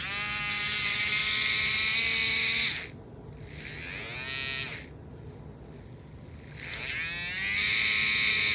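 An Athearn GP9 model locomotive motor from 1957 whines steadily with a buzzing, harmonic-rich hum, drops to a quieter, wavering run in the middle, then rises back to full strength near the end.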